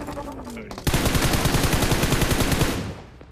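Automatic gunfire in the BGMI battle royale game breaks out as a long, loud, rapid burst that fades slightly at the end, after a moment of quieter game sound.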